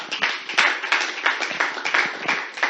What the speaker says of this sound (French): S'il vous plaît, veuillez encore l'applaudir fortement.